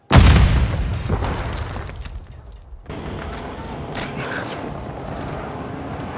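A grenade in the Call of Duty: Modern Warfare video game goes off with a loud, close boom, then a long rumbling, hissing tail of debris and battle ambience.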